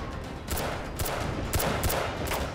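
Gunfire rings out in a Thai-dubbed TVB television drama: a string of loud, sharp shots in quick succession over a dense, noisy backdrop, with no speech.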